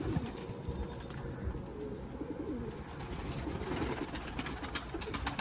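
Young Arabian cicibaş pigeon cooing softly amid a dense, steady background of other pigeons and birds in a loft, with no voices.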